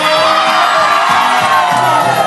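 Wedding guests hold hands and scream together as they walk to the middle of a dance floor, a loud sustained wall of overlapping shouts and whoops from a large crowd, up close.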